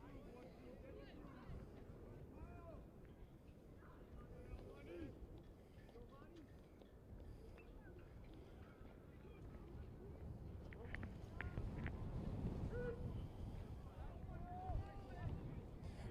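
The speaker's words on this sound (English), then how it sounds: "The wind picked up there" Steady wind buffeting the microphone at a high school baseball field, a continuous low roar that swells and gusts louder toward the end, with muffled voices underneath.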